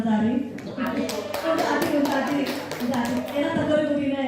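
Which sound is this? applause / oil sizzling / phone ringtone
applause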